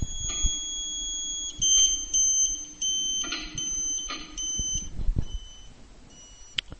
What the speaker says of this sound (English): Move the elevation adjustment bolt until you hear the beeper tone drop.